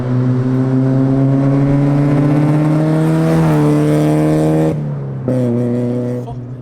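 A Mazda NA Miata with a loud aftermarket exhaust drones past, a deep sustained rumble with a pitch shift as it goes by, a brief dip, then the roar continues before fading.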